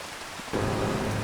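Heavy rain in Farming Simulator 2025 during a downpour while farm work goes on, starting as a faint hiss and abruptly swelling halfway into a loud, dense, steady roar.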